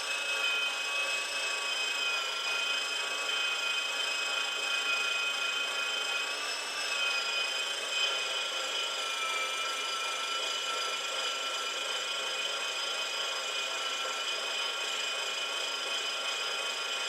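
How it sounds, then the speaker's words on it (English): Steady, continuous scraping and rasping of a whole pound of cheese being grated, loud and close without pause for the whole stretch, with no talking. "A whole pound of cheese grated up."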